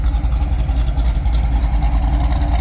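A 2002 Corvette C5 Z06 with BTR cam and Trick Flow heads, breathing through 3-inch pipe into stock titanium mufflers, idles with a deep, steady, loud rumble and a lumpy pulsing rhythm, close by.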